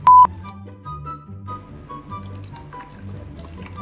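Freshly boiled water poured into the inlet of a small gadget, a clear trickling and gurgling fill with bubbly, rising pitch, close and fairly loud after a brief beep at the start.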